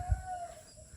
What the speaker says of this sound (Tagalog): Manok mo lang madidinig dito